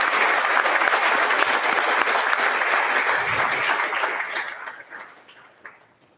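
Applause from an audience at a public talk on mind, body and wellness in Miami, a dense steady clapping that holds strong for about four seconds and then fades out toward the end.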